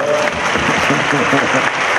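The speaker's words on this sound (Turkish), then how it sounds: "Evet en büyük alkışı sayın başkanımıza." A crowd at a live event in Bilecik applauds the arrival of an honored official, dense clapping mixed with voices and cheering over about two seconds.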